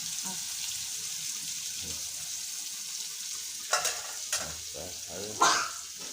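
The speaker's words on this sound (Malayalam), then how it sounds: "ചൂര വറുക്കാനുണ്ട്" Tuna fish frying in hot oil gives a continuous close sizzle, broken near the end by a few louder scrapes and stirring clatters, with faint talk in the background.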